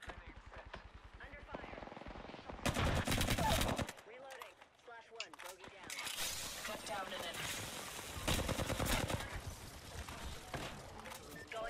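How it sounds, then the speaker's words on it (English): Rapid automatic gunfire bursts from an Apex Legends firefight, loud and close, coming in dense volleys around the start and again midway, mixed with game effects and voices talking over the shooting. "Why is he still shooting me then?"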